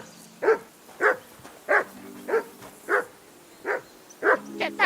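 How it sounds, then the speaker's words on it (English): A dog in the video game Kingdom Come: Deliverance barks about eight times at a steady, regular pace, each bark evenly spaced and moderately loud against a quiet background. "Get that mutt of yours to stop barking, will you?"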